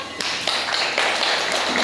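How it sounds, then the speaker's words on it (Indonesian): A class of students claps hands in unison in a classroom after a group presentation, a brisk, even patter of many hands with a few sharper slaps, fairly close. "Tepuk tangan."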